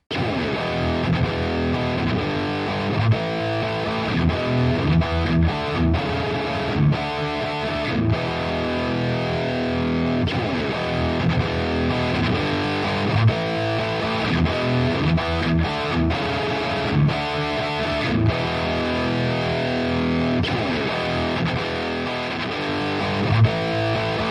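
Distorted electric guitar playing through the Nunchuck PolyChrome DSP ambience plugin, spacious sustained chords ringing out continuously and loud, with no talking.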